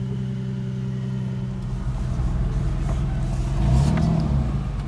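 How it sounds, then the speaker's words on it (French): Rally cars accelerate and rev on a road stage, a steady engine drone swelling louder midway as one car passes near, with rising pitch toward the end. "Il y a vraiment des belles voitures hein, qui font un son incroyable."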